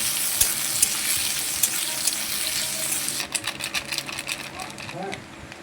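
Onion and green chili spit and crackle in hot oil in a wok, a steady close sizzle at first that turns choppier with bursts of stirring, while a voice speaks briefly near the end.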